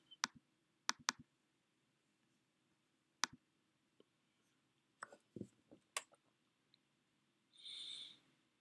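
Mouse clicks on a laptop button during FTP client setup: a few sharp, close clicks spaced out over the clip, plus small taps and a brief soft hiss near the end, with no talking.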